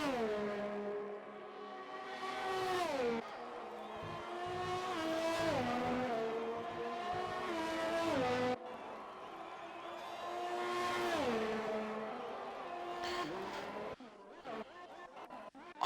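Formula 1 video game race car at the Canada circuit: a high-pitched engine screams through repeated upshifts and downshifts as it brakes and accelerates through corners, loud and close, with no talk.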